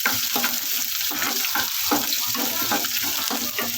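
Garlic and ginger fry in a pan with a continuous close, crackling sizzle and occasional stirring scrapes.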